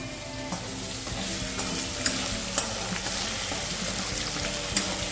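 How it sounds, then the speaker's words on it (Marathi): Garlic, ginger and green chilli sautéing in oil in a pan: a constant close sizzle with occasional clinks and scrapes of a spatula stirring. "एक दोन मिनिटं मस्त परतून घ्यायचं लसूण आलं आणि मिरची परतून झालं की मग भाजी टाकायची"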